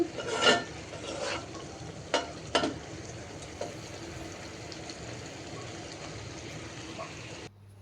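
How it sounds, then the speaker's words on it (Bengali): Cauliflower, potato and tomato fry in a pan with a low steady sizzle, broken by a few stirring scrapes and clatters early on before settling into a quieter hiss until an abrupt stop. "ফুলকপি আলু টমেটো এগুলো ভেজে নিচ্ছি"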